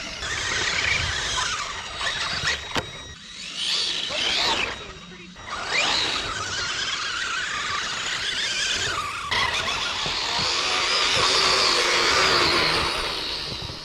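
A Team Associated Rival MT10 RC monster truck on low-grip tires skids around a backyard track, its motor whining high and its tires squealing in long loud slides with brief dips between passes.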